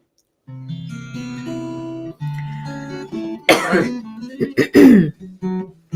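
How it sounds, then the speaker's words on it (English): A few harsh coughs and a throat clear break out near the end, following a steady low hum at the start. "I think it's just because I have to cough"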